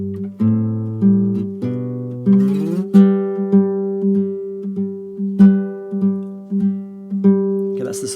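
Acoustic guitar fingerpicking a song with the tag and bouncing bass: steady picked notes over a pulsing low bass line in a regular rhythm, close and clear with no talking.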